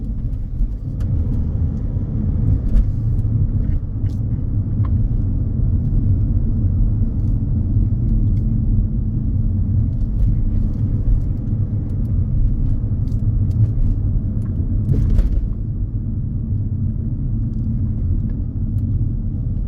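A car on a Huddersfield driving test route produces a steady low engine and road rumble from inside the cabin. It holds a constant level throughout, with a few faint clicks and one slightly louder bump.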